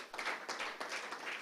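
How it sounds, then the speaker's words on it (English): Audience applause at the Nigeria Prize for Science 2025 press conference, a steady wash of many hands clapping, fairly soft and distant, continuing through the whole moment without a break. "Please, a round of applause for him as he"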